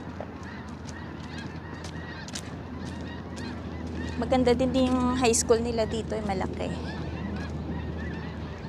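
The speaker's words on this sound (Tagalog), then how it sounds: "Ang daming ibon." A flock of geese honks near a high school in Regina, Canada, a burst of loud, clustered nasal calls rising midway through, while a person talks over steady outdoor background noise.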